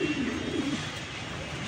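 A red checker racing pigeon from a club loft gives one low, soft coo lasting under a second, close by over a steady background hiss.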